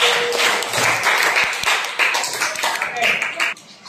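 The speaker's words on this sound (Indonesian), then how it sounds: "tepuk tangan untuk kelompok Alin" A class applauds a student group with a burst of many hands clapping, dense and close, fading out toward the end.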